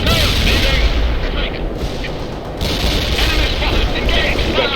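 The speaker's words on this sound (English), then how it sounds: "Incoming fire! Get down!" Incoming artillery and gunfire in a World in Conflict battle, loud sustained booms and crackling shots rolling without pause, with soldiers' voices shouting over the din.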